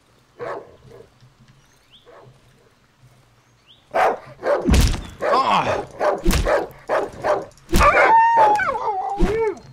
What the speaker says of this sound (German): Da ist der Hund.